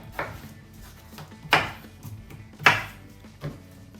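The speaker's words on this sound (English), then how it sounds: "Just chopping it up into little chunks" A knife chops a pear into small chunks on a cutting board: four sharp, separate thuds spaced about a second apart, close and clear against a quiet kitchen.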